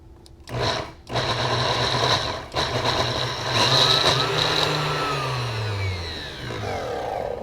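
A blender pulsing garlic and greens switches on and off in several close bursts, its motor whine rising and sliding in pitch as the load shifts.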